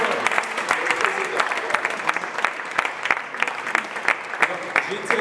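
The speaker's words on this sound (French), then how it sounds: "Sous vos applaudissements." Applause from the audience at a Martinique junior chamber (JCE) handover ceremony in 2014, dense and steady clapping with sharp individual claps standing out, filling the room at a moderate level.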